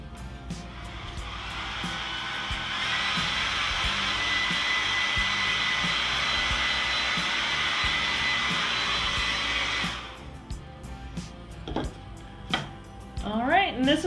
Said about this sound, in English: I'm gonna hit this with the dryer one more time